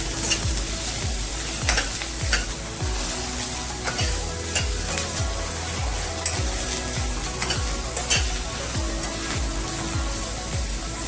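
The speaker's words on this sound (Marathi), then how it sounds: "मोठा कपलेला कांदा आहे की नाही मोठ्या फोडींचा तो पण टाकायचा आपण थोडासा परतून घ्यायचा" Large chunks of chopped onion are sautéed in a pan on the stove for a home-style gawar (cluster bean) sabzi. A constant sizzle runs underneath as a spatula scrapes and stirs in a steady, repeating rhythm, close up and with no talking.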